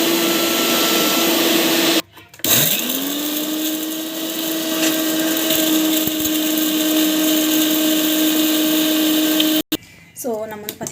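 A mixer grinder runs steadily, grinding herbal hair pack ingredients into powder with a loud, close whirring motor that stops briefly, then resumes before cutting off near the end.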